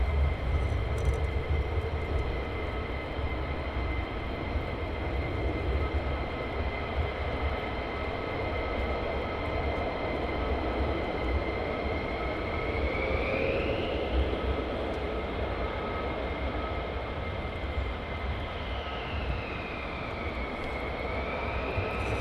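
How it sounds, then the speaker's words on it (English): An F-35 fighter jet taxies out at RAF Lakenheath, its engine producing a loud, constant roar with a steady whine and tones that bend upward and downward as it moves, heard without talking. "Nice F35 coming out indeed."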